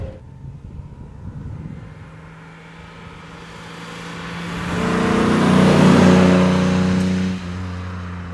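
A 1957 Mercedes 300 SL Roadster engine revs up from a low rumble into a rising, loud roar that holds near full power before easing off slightly at the end.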